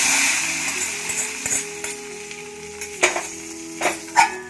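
Hot tempering oil is poured into a pot of roasted-coconut curry with a loud sizzling hiss that slowly fades, followed by a few sharp metal clinks.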